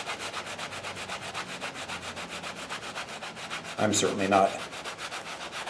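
A cheap kitchen sponge is rubbed hard over an Indiana Jones style jacket to weather it, giving a rhythmic, rasping scrub that repeats steadily with one louder, harsher burst near the end, while someone talks briefly over it.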